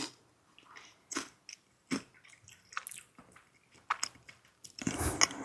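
Crunchy Mexican candy with a filling being bitten and chewed up close, giving several sharp crisp crunches spaced through the clip with quiet pauses between, ending in a louder burst of crackling mastication.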